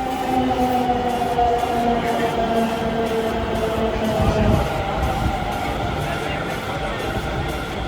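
A Delhi Metro Pink Line train rolls along with a loud, steady rumble and a drawn-out electric whine, a continuous close interior ride with only faint crowd noise behind it.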